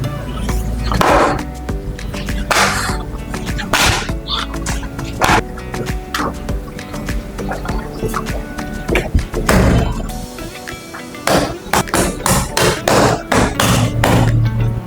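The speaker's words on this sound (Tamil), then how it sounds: "பரோட்டா அடிக்கலாம் வாங்க." Parotta dough is beaten and slapped on a street-food counter, giving loud, sharp thwacks in irregular bursts with brief pauses between them and a busy background hum.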